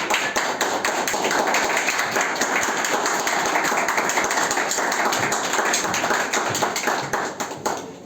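An audience breaks into sustained applause after being asked to clap for the opening speaker on the last day of a talk about fungi, dense, steady clapping filling the room from start to finish with no one speaking.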